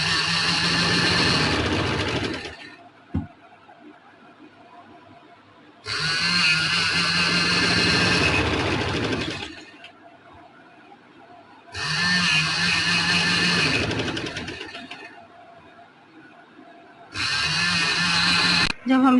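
Sewing machine stitching lace onto a round neckline, several long runs of steady motor whir separated by pauses, close and loud, with someone speaking in between.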